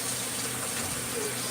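A kitchen tap runs steadily while food is washed beneath it, a close, even hiss of flowing water filling the whole short moment.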